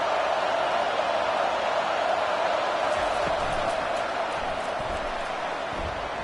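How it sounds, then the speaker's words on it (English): A packed stadium crowd at a Penn State at Tennessee college football game roars in a loud, steady wash of noise that holds through to the end. "this crowd is tearing the lid off this place"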